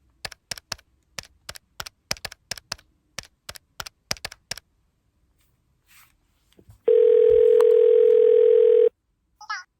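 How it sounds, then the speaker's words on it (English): A person types a phone number on a keypad with a quick run of about a dozen sharp clicks, then a steady, loud dial tone holds for about two seconds before it cuts off. "Let's give Boki a ring now."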